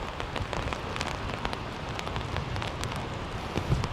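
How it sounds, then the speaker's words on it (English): Rain pattering steadily on an umbrella on a wet city street in Leeds, England, a close, even patter of drops with no one speaking. "But it's raining."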